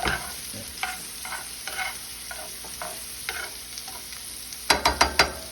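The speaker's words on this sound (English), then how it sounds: "you're going to saute these in that bacon fat until they get translucent" Onions sautéing in bacon fat in a pan, steady soft sizzle with repeated scraping stirs of a utensil, a few sharper clanks near the end, no talking.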